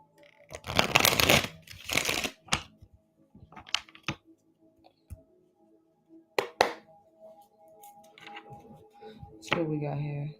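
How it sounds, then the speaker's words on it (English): A tarot card deck being shuffled and split by hand, with bursts of riffling and slapping card sounds between pauses, fairly close and moderately loud. "Okay, one more shuffle."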